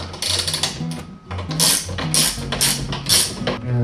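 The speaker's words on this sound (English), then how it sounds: "So now let's tighten up the bolt." Bolt being tightened on an ARK XO500 trailer tongue jack during a trailer build, giving steady mechanical ratcheting and clicking with some grinding, close and loud, with no voices.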